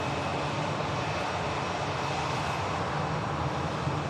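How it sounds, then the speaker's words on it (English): A Ryanair airliner rolls down the runway for takeoff at Manchester Airport, a steady, broad engine roar held at constant loudness throughout, heard from a distance with no voices. "Ryanair on the takeoff roll"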